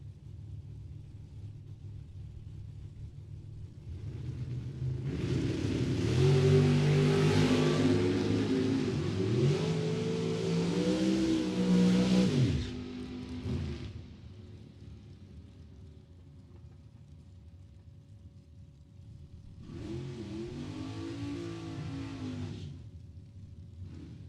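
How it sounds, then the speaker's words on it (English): Drag racing cars, a Chevelle and a Camaro, accelerating down the strip: a loud, rising engine roar lasting about eight seconds that fades off, then a second, quieter, more distant pass of engine noise. "Tom Bueller out of Fort Wayne in a Camaro."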